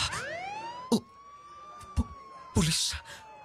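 Police siren in a Cebuano live radio drama, a sustained wailing tone sweeping slowly across the clip, with sharp thumps and bursts of other staged effects layered over it.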